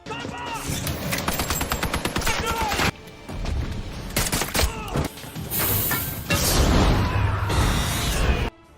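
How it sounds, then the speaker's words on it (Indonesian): Gunfire from a shootout in a hitman action film crackles in rapid bursts and single shots, mixed with impacts, whooshes and dramatic score, while a narrator speaks over much of it. "aksi tembak-tembakan kembali terjadi"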